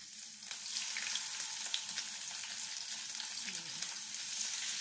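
Sea bass sizzling in a hot pan with oil and garlic, a steady, faint frying hiss with small crackles continuing evenly throughout.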